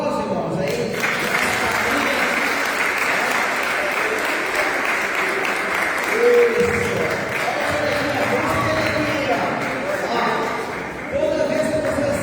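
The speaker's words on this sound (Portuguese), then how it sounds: "um aplauso, irmãos" Methodist congregation in Cruz Alta applauding at a thanksgiving service for 125 years of the church, steady sustained clapping from a crowd lasting over ten seconds, with voices talking throughout.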